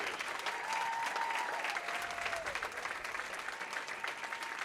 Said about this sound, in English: how about a round of applause with our champion. for two-time Junior Gold champion Annalise